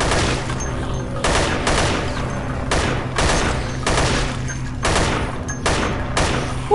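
Gunfire from shooting enemies in the video game Dead Effect comes as loud, rapid bursts of repeated shots, several volleys separated by short gaps, with no one talking over it.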